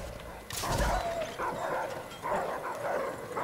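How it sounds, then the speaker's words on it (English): Dogs barking in the shooter game Call of Duty: World at War, a run of loud, close yelps and barks over a busy stretch of game noise. "Oh no, dogs. Die, doggies."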